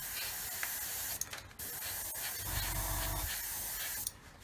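An airbrush sprays paint onto a Revell 1/144 Apollo Saturn V model at about 15 psi, giving a steady close hiss that cuts out briefly twice before resuming.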